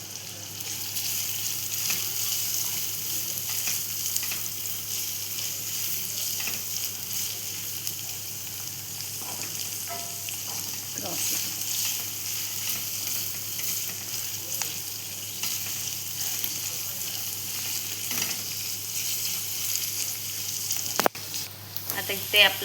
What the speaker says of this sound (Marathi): इथे आपण कांदा टाकून घेतलेला आहे.